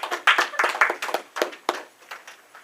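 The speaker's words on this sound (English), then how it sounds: "a round of applause for everyone" A small audience applauding at the close of a debate, a brief patter of clapping from a few people that thins out toward the end.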